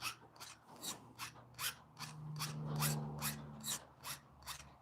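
Hand file strokes sharpen a hoof trimming knife, about a dozen crisp, evenly spaced rasps in steady rhythm, close and fairly quiet, with a faint low hum underneath.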